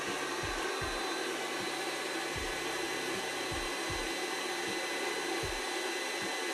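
An induction heater works on a rusted nut, putting out a constant, dense hiss with soft, irregular low thumps ticking underneath.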